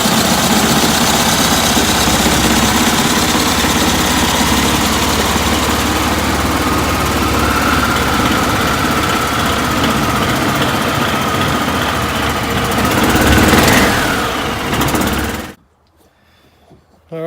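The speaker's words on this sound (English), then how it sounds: "The motor starts up like that." A Yamaha gas golf cart engine runs steadily and loudly at close range with a constant rumble and vibration, rising slightly near the end before cutting off abruptly into near silence.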